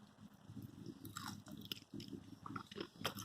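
Close chewing of Hawaiian garlic shrimp, soft repeated bites and squishy mastication with faint crunches, quiet and steady with no talking.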